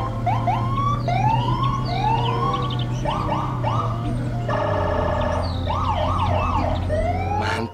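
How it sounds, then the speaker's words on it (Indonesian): A toy police car siren wails in rapid electronic patterns, switching between rising whoops, yelps and warbling tones, loud and close. "Kakak menemukan kendaraan yang memiliki sirine berwarna merah dan biru. Ini adalah mobil polisi."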